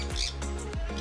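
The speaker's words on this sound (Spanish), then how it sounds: "y hay dos pajaritos" Small birds squawk in a large aviary at Parque Tricao in Chile, giving a few sharp, close calls over about a second with steady background noise.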